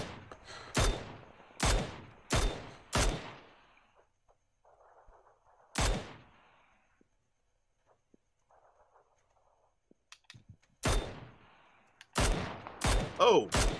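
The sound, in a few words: gunfire in PUBG video game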